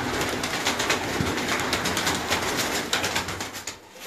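Many pigeons coo and flutter in a large loft, a dense, fairly close chorus of calls with scattered wingbeats and no voices.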